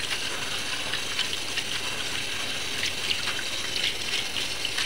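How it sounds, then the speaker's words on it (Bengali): Chopped vegetables, bottle gourd among them, being washed under running water in a home kitchen: a continuous close gush and splash of water that stays steady for several seconds. "এখন আমি ভাজিটা ধুয়ে নিচ্ছি।"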